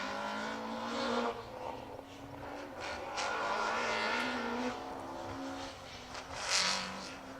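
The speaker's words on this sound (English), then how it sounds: "More cars on the rev limiter in the distance." Distant rally cars at the Manx Rally scream at high revs, bouncing off the limiter in repeated bursts, with rising and falling rasps carrying across open ground.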